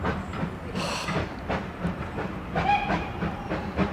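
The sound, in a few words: restored steam locomotive running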